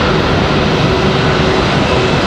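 A Frontier Airlines airliner at Raleigh-Durham airport gives off a steady, loud jet engine rumble and hiss, unbroken across a short stretch.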